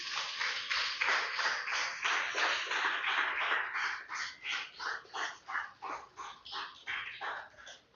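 A church congregation applauds, and the clapping gradually turns into a steady rhythmic beat. It is moderately loud at first and fades slightly toward the end, with no talking.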